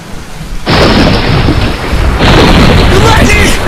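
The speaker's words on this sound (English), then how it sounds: "The storm has arrived, and it was ready to play." A thunderstorm pounds close by: heavy, continuous rain roars while deep rumbling thunder swells in two loud, sustained waves that fill the whole stretch.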